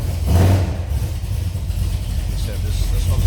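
A 1969 Plymouth Satellite V8 idles with a steady, low rumble, heard close and continuous, with a slightly louder swell near the start.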